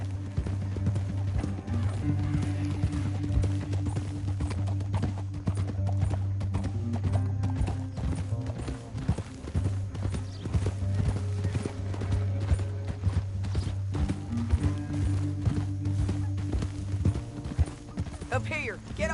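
Horse hooves in Red Dead Redemption 2 clip-clop continuously at a steady trot over a droning game score, with occasional snorts and faint voices.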